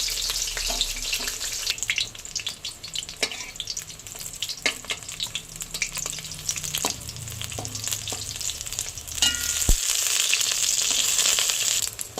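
Water lily (shapla) fritters frying in hot oil, a steady close sizzle with scattered crackles and stirring clatter throughout, no one speaking.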